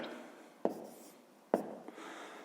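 Handwriting on paper while working a fifth-grade subtraction exercise: two crisp pen strokes nearly a second apart, then a faint third touch, quiet and close over low room noise.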